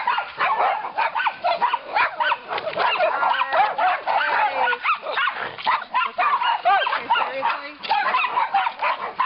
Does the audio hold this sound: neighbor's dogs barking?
yes